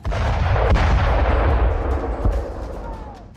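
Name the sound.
heavy gunfire and artillery fire in the battle of Bakhmut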